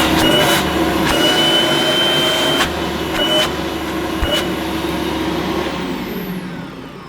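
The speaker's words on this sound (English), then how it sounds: "I'm going to switch the cleaner on and judge first of all its noise level and just see how much suction there is at the hose" Hoover Vortex Evo Pet upright vacuum cleaner with a 350 watt motor and the hose attached, running with a steady broadband whoosh and motor whine throughout, close and loud, a few brief clunks along the way and no talk.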